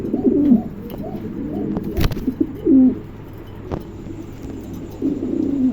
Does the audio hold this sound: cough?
no